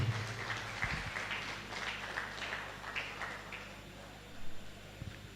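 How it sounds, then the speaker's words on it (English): Faint, scattered applause from a small audience, a soft patter of clapping that thins out, with a few louder thumps. "Please, ladies and gentlemen, put your hands together for Shema."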